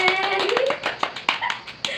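A few sharp hand claps in an informal home setting, spaced irregularly over a couple of seconds, mixed with a high voice speaking over them.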